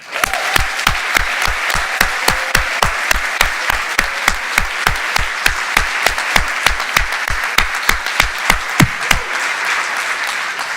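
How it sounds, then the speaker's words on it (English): Steady, loud applause from an audience at a 2021 mid-year completion celebration for graduates, with dense clapping continuing throughout and no voices over it. "Let us applaud your families, your friends, and your loved ones"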